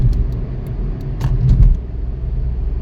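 Road traffic rumbling from inside a moving car, a steady low drone with a swelling pass around the middle and a few faint clicks, no talking.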